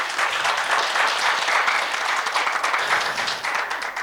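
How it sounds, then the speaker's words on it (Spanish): Audience applause at a documentary-film journalism forum, a dense steady wash of many hands clapping for about four seconds with no voices over it. "Un aplauso para Joe, por favor."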